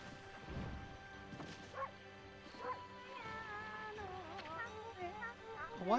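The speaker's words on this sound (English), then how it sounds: "A white wolf." A white wolf in the video game Okami barks and yips in short, sharp bursts, the loudest cluster coming at the very end, layered over steady in-game music and sound effects.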